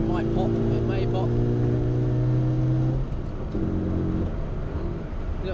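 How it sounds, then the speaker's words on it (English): Rover Mini Cooper with a stage 1 exhaust idles loudly with a steady engine drone, then the note drops and roughens as revs fall, with possible faint pops mixed into the rumble. "If you drop it down, listen, and it might pop."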